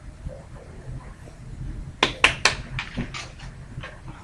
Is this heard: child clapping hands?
yes